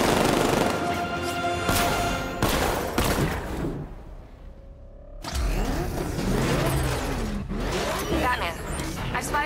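Rapid six-millimeter cannon fire from a tank in the video game Batman: Arkham Knight rattles in loud bursts amid heavy vehicle rumble and mechanical whirring, with a short lull before the barrage resumes.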